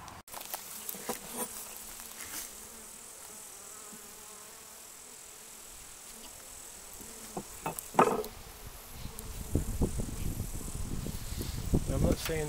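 Honeybees buzz around a hive super set on top of the brood boxes, a steady close insect drone throughout, with handling knocks and rustles growing louder toward the end.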